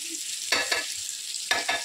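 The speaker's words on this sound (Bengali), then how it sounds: "এখানে মটন কষা হচ্ছে।" Mutton being sautéed as kosha in a pan with a large spatula, sizzling close up with two bursts of scraping stirs over a steady frying hiss, no talk.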